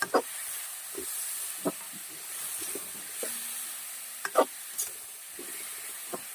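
Spices such as cumin stirring in a frying pan give a steady soft sizzle and hiss, broken by scattered scraping clicks of the spoon against the pan, with no talk.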